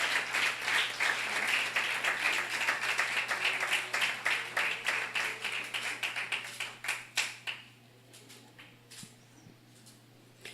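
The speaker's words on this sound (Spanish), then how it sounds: "Dale fuerte el aplauso al Señor en esta mañana." A church congregation applauds during a morning fast-service, dense steady clapping that builds, then thins to a few scattered claps and fades out near the end.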